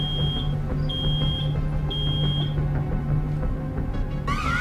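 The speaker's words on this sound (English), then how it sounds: "Oh no! Something's beeping!" Road 96 game alarm: a shrill repeating electronic beep sounds in short bursts over a low droning hum and background noise, ending with a rising warble.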